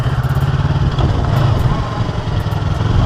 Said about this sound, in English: Oh, look, a scooter!